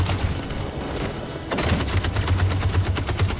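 Sustained gunfire in the video game Detroit: Become Human, dense overlapping automatic bursts that briefly ease around the middle and then return louder, a steady battle roar with no speech.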